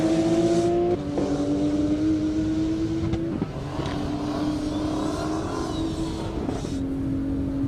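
A loud drag racing car engine roars at high revs on an airstrip half-mile, pitch climbing through several gear shifts, with a brief break as it surges onward.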